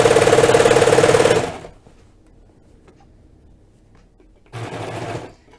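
A serger stitching the seams of a sweater runs in a fast, loud mechanical whir. It stops for about three seconds of near quiet, then starts again briefly.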